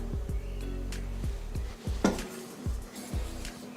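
Metal clanks and clinks as a metal idli plate is set into a steamer pot, several sharp knocks over a steady low hum.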